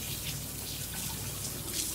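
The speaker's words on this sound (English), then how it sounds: "Washing hands again." Running tap water pours steadily into a kitchen sink during hand washing, a soft continuous splashing hiss at close range with no talking over it.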